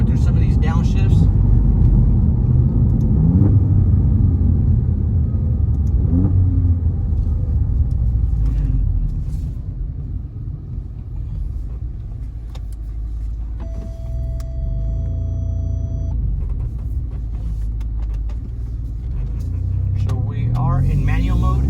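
Alfa Romeo Giulia Quadrifoglio engine heard from inside the cabin, a loud low rumble that dips and surges through several downshift blips, with a person talking over the engine noise.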